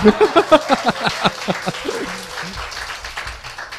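Studio audience applause at a live Korean current-affairs talk show, with someone speaking loudly over the start before the clapping carries on as a steady wash.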